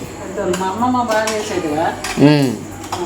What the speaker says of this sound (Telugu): జీలకర్ర ఆవాలు మెంతులు రోస్ట్ చేసుకొని పౌడర్ చేసుకోవాలి